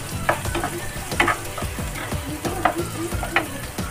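Onion with ginger-garlic paste fries in a pan for dhaba-style sev bhaji, a steady sizzle broken by regular scraping stirs and the knock of a spatula, close and moderately loud, with no talk.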